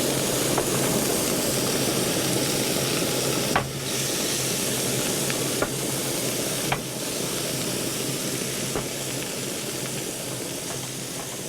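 Food frying with soy sauce at a campsite, a dense steady sizzle heard close and loud throughout, with a few faint clicks and knocks over the hiss.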